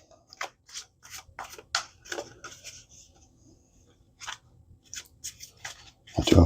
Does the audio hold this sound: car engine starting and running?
no